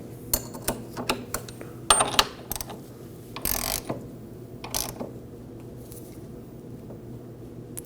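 Ratchet tightening a tool down to pull in and seat a front wheel bearing seal on a 1993–2001 Subaru Impreza, a series of short clicks and metallic clanks at irregular intervals, close and moderately loud.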